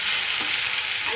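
Tomatoes get stirred into Maharashtrian stuffed eggplant masala frying in a pan, giving a steady close sizzle with faint scraping of the spoon throughout.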